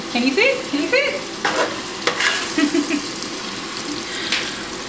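Ingredients for mais moulin being stirred and mixed in a pot, a wet sizzling base under irregular scrapes and knocks, with a few brief vocal sounds over it.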